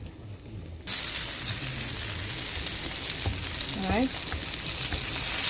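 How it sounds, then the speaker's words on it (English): Half a stick of butter melting into hot oil in a pan, a steady bright sizzle that begins abruptly and continues without letup, with a brief spoken word just before and a short metallic scrape partway through. "I'm gonna add some butter. Right, half a stick of butter, and I'm gonna let it melt in"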